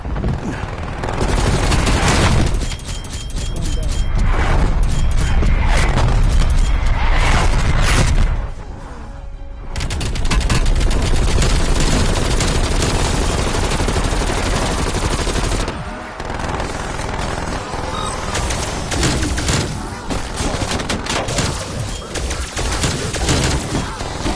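Call of Duty Cold War Zombies battle with an artillery strike, dense automatic gunfire and booming explosions crackling almost without pause for a long stretch, loud and close, broken by two brief lulls.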